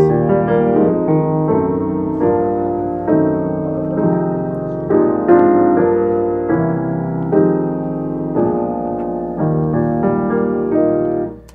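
A captured piano performance plays back through studio speakers from Logic Pro, with loud, clear melodic notes and chords ringing in sequence and no voices over them.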